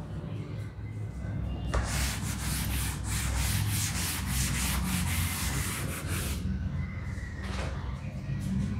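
Writing being rubbed off a board during a physics lesson on units of charge: a steady, fairly loud scrubbing swish runs for several seconds between quieter moments, with no talk over it.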